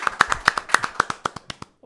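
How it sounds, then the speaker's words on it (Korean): A few people clap in a small studio at the opening of a Christian talk show, with about fifteen distinct, close claps in a quick uneven rhythm that trail off near the end. "박수"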